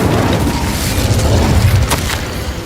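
Hogwarts Legacy Incendio fire spell unleashed in a cave fight, a loud, sustained whoosh of flame with deep rumbling booms and a sharp flare near the end.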